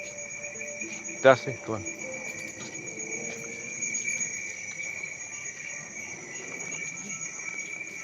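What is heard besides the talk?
cricket chirping, probably from a speaker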